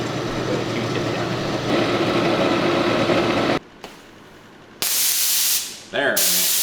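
Pressurized spray hisses from a small hole in a part, a steady broadband rush that cuts out abruptly, returns in a sharp loud burst, dips briefly, then resumes strongly.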